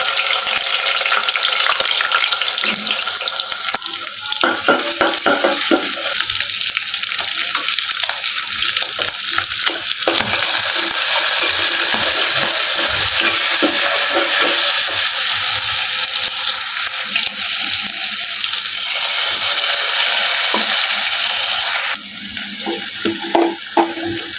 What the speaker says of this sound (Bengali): এই তো আমি মাছটা ভেজে নিলাম